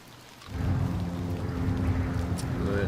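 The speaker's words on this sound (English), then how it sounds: "Raining quite a bit." Rain in the video game Excavation of Hob's Barrow, set in the English countryside: a steady, dense hiss of rainfall swells in after a quiet half second and continues evenly, with a faint low rumble underneath and no talking.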